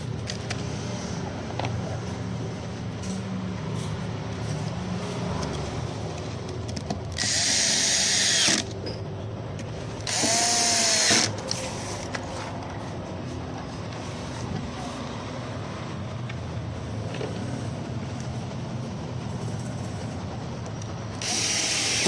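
A power drill driving screws while a standing dressing table, model WD-708, is assembled, giving two loud short whirring bursts mid-clip and another at the end over steady room background.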